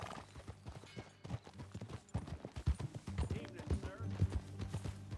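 Horse hooves clip-clop in a steady walking rhythm in the video game Red Dead Redemption 2, fairly quiet, with people talking over the footsteps at times.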